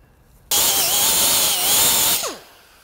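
A power drill bores holes for transmission cooler fasteners, starting abruptly and holding a loud whining tone for about two seconds before winding down.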